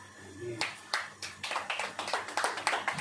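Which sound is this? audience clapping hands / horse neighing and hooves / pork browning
audience clapping hands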